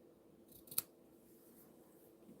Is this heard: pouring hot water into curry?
no